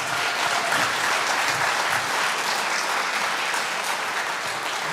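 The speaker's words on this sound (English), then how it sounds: "a round of applause for them, please" Dense, steady applause from a large audience at a high school band spring concert fills the whole stretch at a constant loud level.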